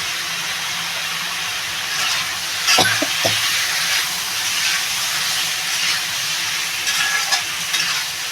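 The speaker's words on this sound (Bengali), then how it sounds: "তরকারিটা আমি ভালো করে কষাবো" Rohu fish curry with potato and green banana fries and sizzles in a pan, a steady broad hiss with scraping stirs and a few sharp utensil clacks near the start, close and fairly loud with no talking.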